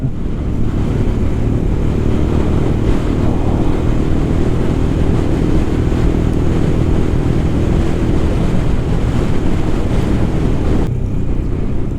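A Royal Enfield Scram 411 motorcycle accelerating on the road, its steady engine drone rising through the gears, heavily buffeted by loud wind roar against the microphone, continuous until the level drops sharply near the end.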